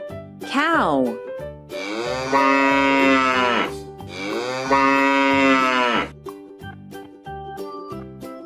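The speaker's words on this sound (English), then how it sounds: "Cow." A cow moos loudly and nearby in two long, drawn-out calls after a short opening note, over a light musical backing.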